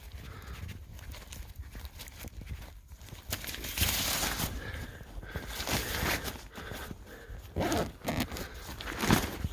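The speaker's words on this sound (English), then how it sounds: "And there it is, zipped up." A zipper drawn along the door of a FireHiking hot tent during a -15°F winter campout in Michigan's Upper Peninsula, rasping in several close strokes with short pauses between pulls.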